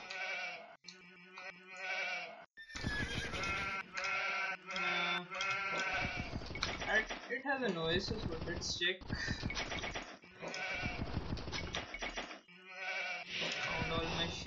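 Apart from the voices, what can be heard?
sheep bleating in a video game (Age of Empires)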